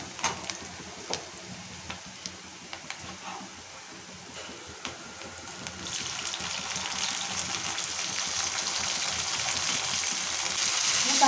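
Tomatoes frying in hot oil with fried chillies and onions for a ridge gourd curry, a steady close sizzle that grows louder and denser over time, with no talk.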